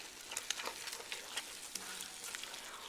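Saffron risotto stirred in a pan, a soft continuous sizzle with scattered quiet scraping and clicking strokes, faint and close, with no talk.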